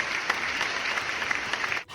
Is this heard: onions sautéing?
no